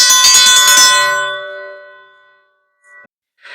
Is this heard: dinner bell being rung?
yes